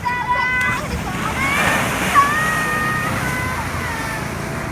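Big ocean swell waves roll in and slosh against the shore, a steady surging wash of surf heard up close, with whistling tones and a person talking over it.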